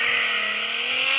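Car driving in Call of Duty Mobile, a steady engine whine with a strong mid-high drone that holds level and loud for the whole short stretch, no voices.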